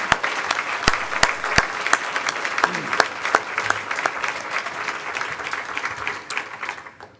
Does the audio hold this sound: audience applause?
yes